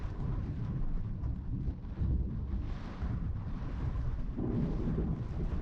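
A heavy rainstorm with strong wind in Jazan during the autumn season buffets the microphone with a constant loud roar and low rumbling gusts, with no voices heard.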